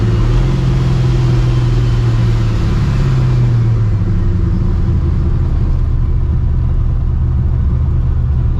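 Straight-piped, cammed and procharged 650 hp 1999 Ford Mustang GT V8 idling loud and close with a choppy rumble, a sustained rev swelling in the first three seconds before settling back to a lumpy idle.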